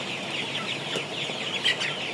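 Soft clucking from a tiger chicken raised for meat, faint and intermittent, over a steady background hiss; no one speaks.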